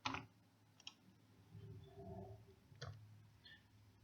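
Sparse taps and clicks on a device touchscreen or keyboard while entering ammunition data into a ballistic calculator, a few quiet isolated clicks in a near-silent room.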